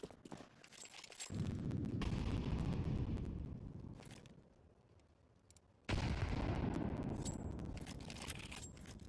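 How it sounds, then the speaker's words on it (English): Counter-Strike match gameplay: a Molotov and a grenade go off with heavy, booming low rumbles, a surge that fades into quieter ambience before a second sharp, loud blast, with no talking. "Molotov comes, probably also a nade."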